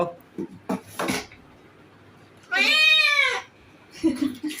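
A cat being bathed lets out one loud, drawn-out meow that sounds like a goat's bleat, close and clear, between short clatters and bits of talk.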